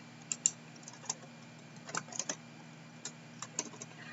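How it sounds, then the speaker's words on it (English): Keys on a computer keyboard are tapped in short, scattered clicks, a few quick strokes spaced by pauses, close and fairly quiet with no talking. "You click into this and you can type in some text. Let's type."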